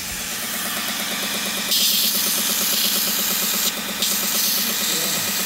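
A 230V Pruszyński belt sander runs at low speed, giving a steady mid-pitched motor drone with hiss and vibration that briefly gets louder and brighter twice, as if under load, with no voices.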